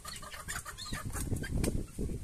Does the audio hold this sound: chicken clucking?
yes